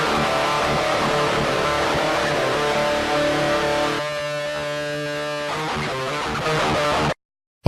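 Electric guitar played through a Roland GR-55 into a DI box, giving a harsh, fizzy distortion tone. Dense sustained chords ring loudly throughout, thin out midway, then cut off abruptly near the end.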